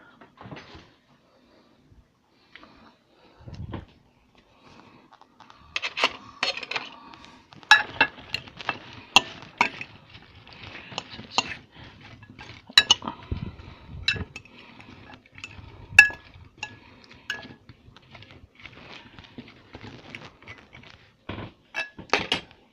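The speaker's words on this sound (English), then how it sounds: "Now I'm doing the cauliflower. I'm just putting a bit of oil in, and I'm gonna stir that up." Cauliflower with a little oil is stirred in a dish, producing scattered clinks, scrapes and knocks of utensil on dish, irregular and fairly close, with quieter pauses between bursts and no talking.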